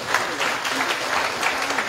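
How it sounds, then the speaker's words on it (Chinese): An audience at a 2018 memorial gathering for tai chi master Chen Fake applauds to welcome a speaker, with dense, continuous clapping that holds steady throughout. "大家掌声欢迎"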